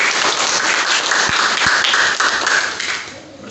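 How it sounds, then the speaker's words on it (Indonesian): A 7th-grade classroom erupts in dense, lively clapping from many students at once, loud and close throughout, with a couple of sharp taps and the applause fading toward the end. "Tepuk tangan untuk semua sekali lagi."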